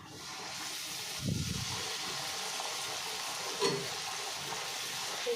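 Peas-stuffed kachori deep-fry in hot oil in a wok, making a soft, continuous bubbling hiss with two short louder surges, heard faintly from close range with no voices.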